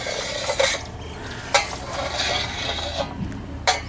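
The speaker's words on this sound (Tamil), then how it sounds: "நீங்கள் இதுக்கு மேலே வேணுங்கிற சைஸில் கட் பண்ணி எடுத்துக்கோங்க." A knife cuts a tray of coconut milk halwa into pieces, giving soft scraping and tapping strokes with several sharper clicks against the tray, close and fairly quiet over a faint background hiss.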